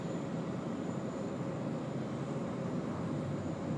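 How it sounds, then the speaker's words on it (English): Airliner on a long takeoff roll at Sydney Airport, a steady distant roar of jet engines holding at an even level throughout, heard from afar with no voices. "that is a long takeoff roll"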